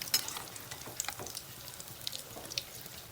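Keto egg bajji, made with almond in the batter, frying in oil over a medium flame, giving a quiet, steady sizzle with scattered light crackles and pops throughout and no voices.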